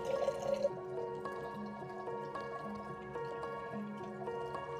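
Water trickles steadily into a thrifted glass jar, close by, with a thin pouring stream and a few distinct drips over about five seconds.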